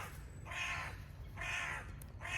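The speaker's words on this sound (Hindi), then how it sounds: "अब कौवे को सुन लो" Repeated crow caws sound out three times in a steady, evenly spaced rhythm, fairly close and clear against a low constant rumble of background hum, with no voices.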